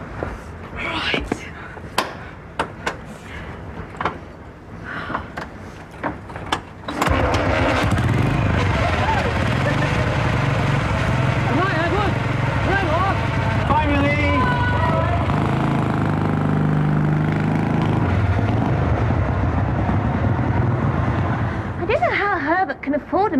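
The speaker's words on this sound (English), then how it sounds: "Can afford a motorbike." A motorbike engine holds a loud, steady drone for most of the stretch after a few seconds of quieter sounds and talk, with a slight rise and fall in pitch as it runs, heard in a period drama scene.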